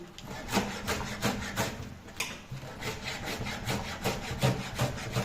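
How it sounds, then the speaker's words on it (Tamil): A sharp knife chopping keerai greens on a board, a close, steady run of rhythmic cutting strokes with scraping texture and no talk. "சூப்பராக கட் பண்ணுவோம் கத்தி நல்லா ஷார்ப்பாக இருக்குது"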